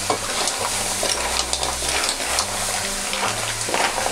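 Buttered seafood coated in Korean chili powder is stirred in a hot pan, a busy sizzle mixed with repeated scraping and stirring strokes, close and loud over a low background hum, with no speech.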